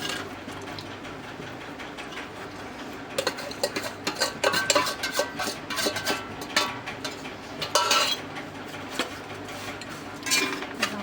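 Chopped jaggery being stirred into roasted coconut in a pan: a scraping, clinking spoon against metal in irregular bursts, moderately close, over a steady low background hum.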